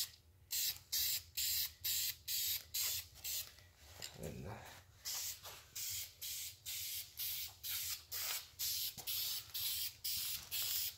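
An engine oil pan from a 5.0 being spray painted hot pink, a steady run of about twenty short aerosol hisses in a regular rhythm, close and alone.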